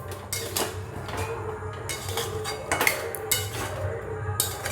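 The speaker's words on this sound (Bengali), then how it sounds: "আলুগুলো দিয়ে এইভাবে একটু নাড়িয়ে নেব।" A spoon stirs potatoes in a cooking pot for vegetarian alur dum, giving repeated close scraping and clinking against the metal in an uneven rhythm over a low background hum.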